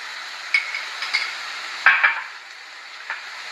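Garlic paste goes into a pan of frying onion paste, raising a steady low sizzle at close range broken by a few sharp metallic spoon clinks against the pan.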